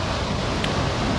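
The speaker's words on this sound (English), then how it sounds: "I see the waves coming in a lot" Ocean waves roll in at Troya Beach in Tenerife, a steady broad wash of surf with wind noise running through the whole stretch and no voices.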